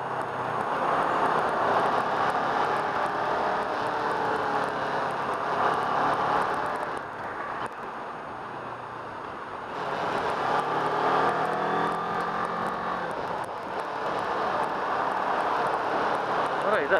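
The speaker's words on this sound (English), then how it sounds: "my ZX sounds a lot louder than the guy in front" Kawasaki Ninja 650R middleweight motorcycle engine droning steadily while lane splitting through traffic, with wind noise and passing cars, briefly dipping around the middle before rising again.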